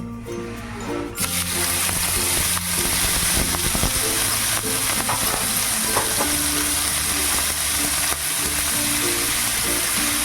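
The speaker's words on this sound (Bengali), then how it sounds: "খুব অল্প তেল দিয়ে আমি প্রথমে চিংড়িগুলোকে ভেজে নেবো" Prawns fry in less than a spoonful of hot oil, bursting into a loud, steady sizzle after a brief quieter start, with crackling and stirring scrapes throughout.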